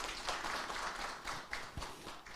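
Audience clapping in a Korean conference hall, greeting the Daejeon vice mayor for science before a talk on bio-industry innovation, faint and somewhat sparse over a low room hum with scattered individual claps.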